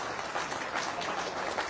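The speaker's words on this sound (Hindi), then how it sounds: "अब लगा है मुझे कि हरियाणवी स्टाइल में तालियां बज रही हैं" Lively crowd applause at a party workers' meeting in Kurukshetra, Haryana, with dense, steady clapping at a consistent level throughout.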